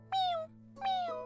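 A lost kitten in a cartoon gives two clear, close meows, each a short falling cry separated by a brief pause, over a faint steady background hum.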